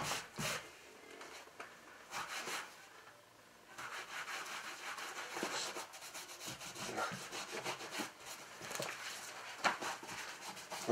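Cloth rubbing cleaner onto a leather shoe in short repeated strokes, close and fairly quiet, with a brief pause near the start and no talking.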